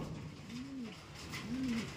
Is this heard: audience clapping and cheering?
no